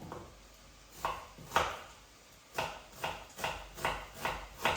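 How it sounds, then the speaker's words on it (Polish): A knife dicing an onion on a cutting board while making young cabbage soup, with irregular sharp chopping knocks, a few spaced strokes then a quicker run of steady cuts, close up and alone. "I cebulę kroję w kostkę"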